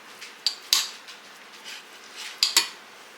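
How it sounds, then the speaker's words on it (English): A spoon scrapes and clinks against a pan while taco meat is stirred in a home kitchen, a few sharp metallic knocks between quieter scraping. "I'm just going to take and stir that in and get it all good and combined"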